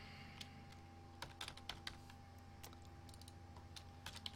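Soft computer keyboard taps come in irregular bursts with short pauses between them, close by and quiet, as text is typed with no talking.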